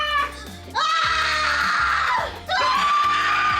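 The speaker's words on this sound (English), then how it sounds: "Let's see who has a better scream." A loud, shrill, sustained scream rings out, then breaks off briefly before a second long scream follows, during a playful zombie Barbie cake baking session.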